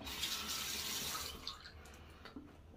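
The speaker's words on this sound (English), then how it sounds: "Slightly wet the hands." Water running from a tap as hands are wetted before applying shaving product, a brief hissing splash that fades after about a second and a half, followed by faint handling sounds.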